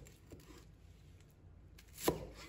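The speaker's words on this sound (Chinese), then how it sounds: "把韭菜放在菜板上，先将韭菜篓的根部切掉，接着把韭菜切成稍长的段" A knife cuts Chinese chives on a cutting board: a few quiet, scattered cuts followed by one sharper chop near the end, in an otherwise hushed kitchen with no talking.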